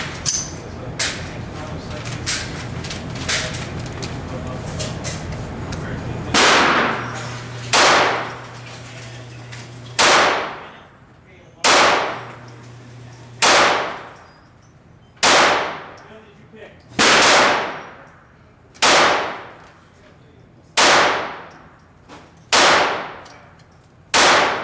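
Browning Buckmark .22 caliber pistol firing at an outdoor range: about a dozen sharp, loud, evenly spaced cracks, each trailing a short ringing decay, coming after a stretch of quiet background talk and handling noise.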